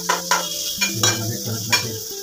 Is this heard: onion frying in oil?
yes